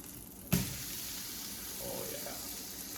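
A sharp clatter, then a steady broadband hiss of steak sizzling in a hot pan, continuous and fairly close.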